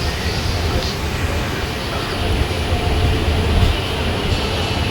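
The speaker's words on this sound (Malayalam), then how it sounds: "ഒൻപത് അൻപത്തി അഞ്ച് വർക്കല ശിവഗരിയിലേക്കാണ് വണ്ടി എത്തിക്കൊണ്ടിരിക്കുന്നത്" A passenger train rolls into Varkala Sivagiri station, a continuous rumbling clatter heard from on board, moderately loud and steady with slight swells.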